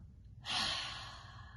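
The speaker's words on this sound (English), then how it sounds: "Exhale out of the mouth" A single slow exhale out of the mouth during a yoga breathing exercise, a soft airy breath that swells then trails off, close and alone.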